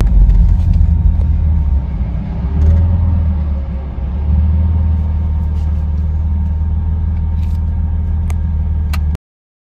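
A Toyota MR2 2GR V6 engine with an aftermarket 4-inch intake idles with a low, steady rumble, its pitch wavering slightly up and down; no voices, close and fairly loud throughout.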